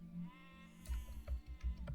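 Sheep bleating in the Stonehearth video game, a few short close bleats in quick succession over a faint musical background.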